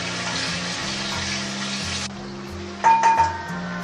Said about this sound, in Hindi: कीमे को हम फ्राई कर लेंगे तकरीबन 1 से 2 मिनट के लिए